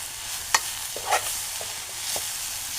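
Bharangi, a wild monsoon vegetable, stir-fried in a pan with fresh grated coconut. A steady low sizzle runs under occasional sharp spatula scrapes and clinks, close and fairly loud, with no voices.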